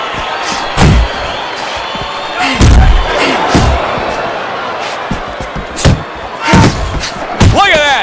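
Punches landing in the boxing video game Fight Night Champion, heavy thuds arriving in irregular bursts over a constant crowd roar, with commentary running throughout.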